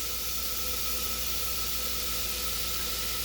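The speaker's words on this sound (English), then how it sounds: "You let it fry for a couple of minutes." Dudhi (bottle gourd) frying in a little oil, giving a steady, even sizzle and hiss close to the pan with no talk over it.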